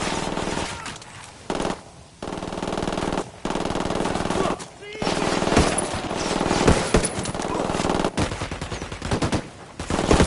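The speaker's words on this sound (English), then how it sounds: "I'm opening fire on these shitheads" Automatic gunfire in the video game Ghost Recon Wildlands, loud and sustained with long continuous bursts separated by short gaps, dense and close throughout.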